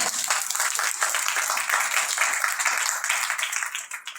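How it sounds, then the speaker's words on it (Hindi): A congregation at a Sunday church service in India claps together in a dense, continuous patter of many hands, fairly loud and steady throughout. "अरे ताली को मारो भैया।"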